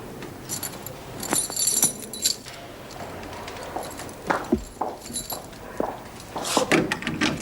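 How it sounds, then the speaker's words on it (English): Keys jangling in a prison office scene, heard as several bursts of bright metallic chinking at moderate distance mixed with footsteps, knocks and door sounds, with no speech over them. "You can leave your keys with me, Miss Bennett."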